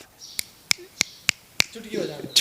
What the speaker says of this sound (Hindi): चुटकी बजाना 3 बार